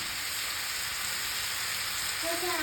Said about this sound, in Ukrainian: Починаємо їх жарити, тушкувати цукром.